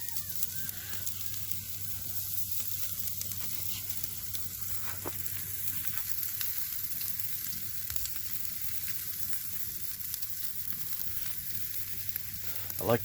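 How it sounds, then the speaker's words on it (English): Steak sizzling as it fries on an open-lidded grill over very high heat, late at night; a steady, close crackling hiss runs throughout with no talk. "Hear the sizzling going on."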